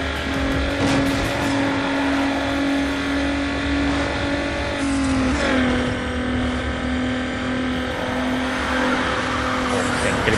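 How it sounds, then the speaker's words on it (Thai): Hyundai Tiburon GT racing in Need for Speed Underground: a loud, continuous engine drone with a steady pitch that dips briefly midway, racing game sound throughout with faint tire noise underneath. "เสียงกริบยาง"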